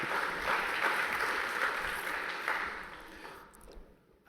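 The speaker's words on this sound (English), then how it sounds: "And you can applaud that." Audience applause at a UNESCO inaugural conference, a steady wash of many hands clapping that holds for several seconds and then thins out and fades near the end.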